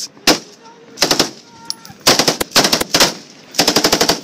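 Machine gun fire in a Chinook squad battle, loud close bursts of rapid shots repeating in short volleys, with brief gaps between them.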